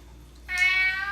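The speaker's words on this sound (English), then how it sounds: "this is my spiritual cat Čert, who is actually crystal lover, and he is making an introduction" A pet cat named Čert gives one clear, nasal meow close by, sudden and sustained in a quiet room.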